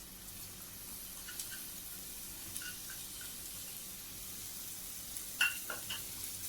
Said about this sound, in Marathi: तो आपल्याला व्यवस्थित मिक्स करून घ्यायचा त्यात